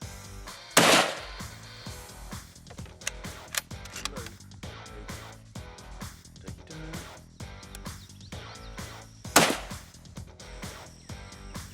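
Two sharp, loud gunshots ring out several seconds apart during a nighttime-style hog hunt, each followed by a brief echo, with quiet mechanical clicks and rustling between them.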